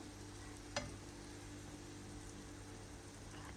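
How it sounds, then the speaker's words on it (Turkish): Steady, soft sizzling of food frying in a pan, continuous throughout, with a brief clink near the start. "her tarafı kızarması için gördüğünüz gibi kızartıyorum"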